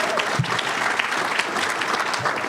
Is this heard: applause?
yes